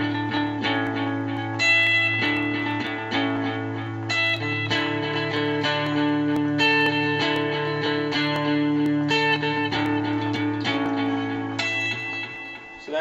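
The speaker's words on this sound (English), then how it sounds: "I've got my RP90 set with a big delay setting" An electric guitar played through a Digitech RP90 with a big delay setting and plenty of reverb gives a dense, continuous wash of repeating notes, loud and sustained throughout with echoes overlapping.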